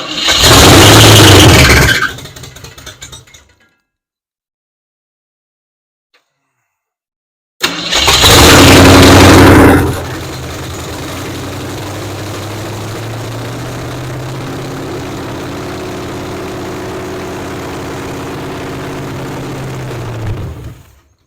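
A 1967 Ford Mustang, long abandoned and fed fuel by hand, cranks in two loud bursts split by several seconds of silence, then catches and settles into a steady, rough idle that runs on to the end.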